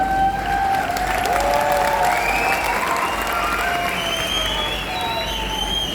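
Audience applause at a talk on rice bran oil, a dense, sustained wash of clapping from a large crowd, loud and steady throughout with light cheering mixed in.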